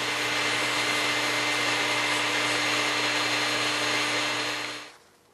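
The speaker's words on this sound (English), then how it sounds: "From here, we begin the sanding process." Steady, continuous whirring hum of a lathe spinning a wooden game call during sanding, close and even throughout, then winding down and fading out at the end.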